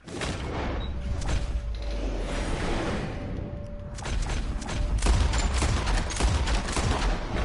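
Rapid gunshots during a shooting contest in Red Dead Redemption 2, a dense, loud run of shots and booms over a steady background, continuing throughout without talk.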